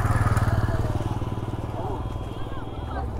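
Several motorcycles in an Independence Day bike rally in Kakdwip rumble loudly and steadily close by, their engines pulsing in a throbbing idle while voices mingle in the background.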